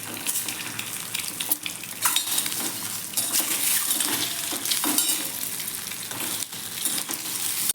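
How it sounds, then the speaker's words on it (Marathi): Cut boiled eggs stirred into a sizzling chili masala for dhaba-style egg curry, with steady frying hiss and repeated spoon scrapes and clinks against the pan, close and continuous. "त्यामध्ये आता ही या पद्धतीने कट केलेली अंडी आहे ती आपण घालून घेऊयात"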